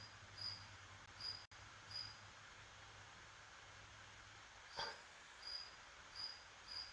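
Faint, sharp cricket chirps repeat at irregular intervals over quiet room hiss, with a brief click partway through.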